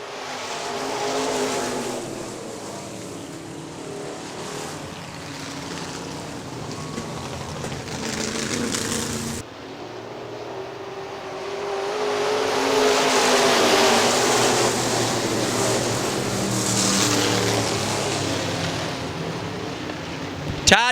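IMCA modified race cars roar around Hartford Speedway Park in Hartford, Michigan, a continuous dense engine drone that swells as the pack passes, heard from the stands at a steady, fairly loud level.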